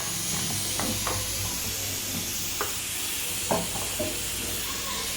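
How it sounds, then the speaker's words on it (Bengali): Small river morola fish fry in hot oil in a wok, with a steady hiss and sizzle throughout and a few sharp stirring clicks and pops. No talking. "কড়াইটা গরম হয়ে গেছে, আমি তেল দিয়ে দিলাম। মোরলা মাছগুলো সুন্দর করে ভেজে নেব।"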